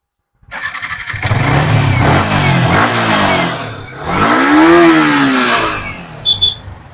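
A used motorcycle's engine at a bike showroom cranks and fires up, settles into a rumbling idle, then revs up once with a rising whine before easing back down.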